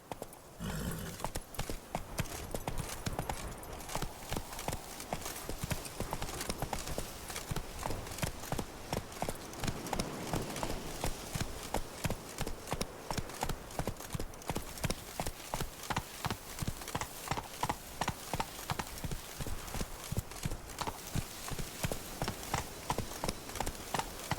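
Horse hooves gallop at a steady, rapid rhythm in the video game The Witcher 3: Blood and Wine, each hoofbeat loud, close and distinct, continuing for the whole stretch with no other sound competing.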